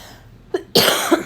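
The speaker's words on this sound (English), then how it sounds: "sorry, excuse my cough." A single sharp cough, close and loud, preceded by a brief short catch of breath, in an otherwise quiet room.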